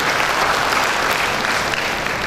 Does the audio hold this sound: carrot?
no